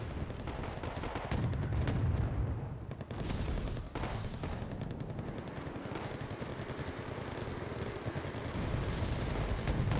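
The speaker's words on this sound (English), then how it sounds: "Dropping all these bombs" Explosions from dropped bombs and battlefield fire in the video game Wargame: Airland Battle, a dense continuous rumble of blasts and crackling gunfire, loud and sustained across the whole stretch.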